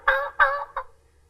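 A diaphragm turkey call imitates a young gobbler, or jake, with three short raspy yelps, close and loud, the last one clipped.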